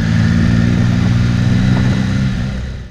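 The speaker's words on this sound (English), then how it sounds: "This review will be wholly and solely of me riding the bike out in the open" A 2007 Triumph Tiger 1050 motorcycle rides on an open highway, a loud, close, steady engine drone with low rumbling tones that fades slightly toward the end.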